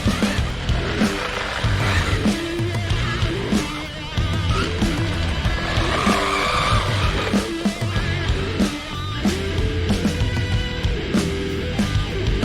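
A SG116 Max RC car running on a 3S battery tears across grass, doing wheelies and skidding, with loud buzzing motor whine, repeated bursts of acceleration and rough tire scrabble close by.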